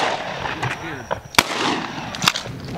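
Shotguns fire on an Arizona dove hunt in farm desert, with two sharp reports about a second apart, loud and close, amid voices of the hunters talking in the background.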